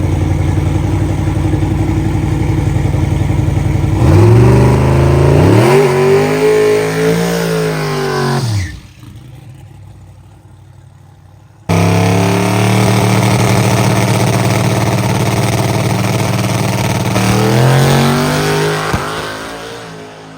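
A radial championship race car on 235 tyres making a test run, its loud engine revving and climbing through gears up close, then cutting away for a few seconds before roaring back with another hard, rising pass.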